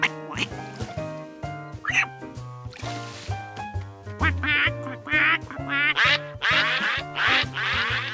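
Cartoon ducks quack in a rapid, lively series of nasal calls over a bouncy musical backing, with the quacks growing denser and louder toward the end.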